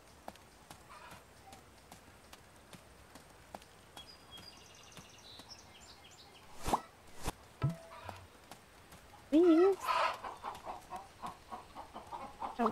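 Video game chickens cluck in brief, sparse calls over a quiet ambient background, joined by hoof-like clip-clop and a few sharper sounds toward the end.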